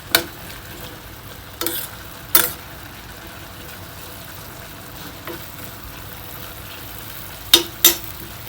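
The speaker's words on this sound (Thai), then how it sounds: "ผัดให้เข้ากันนะครับ เดี๋ยวน้ำหอมใหญ่เขาก็จะออกมาอีกนะฮะ" Omelette filling with onion stir-fried in a pan over medium-low heat for Thai stuffed omelette; a steady soft sizzle runs throughout, broken by several sharp spatula scrapes against the pan, with no talking.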